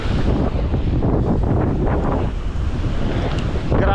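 Strong storm wind buffets the microphone over crashing surf on a beach strewn with washed-up garbage, a continuous loud roar with no speech.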